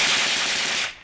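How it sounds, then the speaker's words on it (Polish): A machine gun fires one sustained burst of rapid shots in a war documentary. The loud, dense crackle runs nearly a second and then cuts off abruptly, with no voices. "słyszy się dalsze wybuchy granatów i serię z broni maszynowej"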